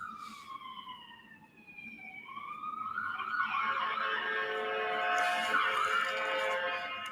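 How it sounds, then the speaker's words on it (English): Emergency vehicle sirens wail outside, somewhat distant, their rising and falling tones sweeping and then swelling as a second, louder siren layer joins over steady background noise. "Can you all hear the sirens?"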